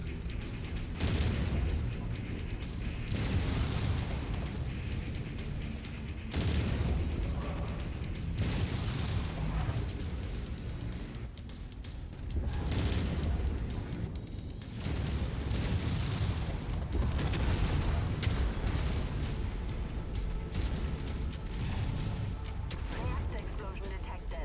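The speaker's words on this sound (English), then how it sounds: "Reactor explosion detected." Mech reactor explosions in MechWarrior 5: Mercenaries sound as repeated heavy booms and rumbling blasts amid continuous loud battle noise, with game voice callouts and player talk over them.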